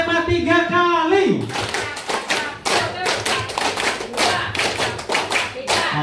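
A group of school teachers at an in-house training session claps out a counted pattern of sharp, rhythmic hand claps in short bursts, after a brief stretch of speech at the start.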